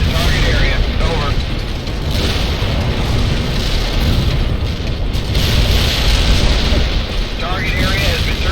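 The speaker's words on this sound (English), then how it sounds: "Whoa! That's some explosion!" Artillery explosions in the video game World in Conflict: loud, rumbling booms roll continuously with heavy low-end blasts and crackling debris, while voices speak over the barrage.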